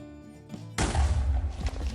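An explosive cube in Minecraft detonates with a sudden, loud, booming blast after a quiet lead-in, and the rumble lingers to the end.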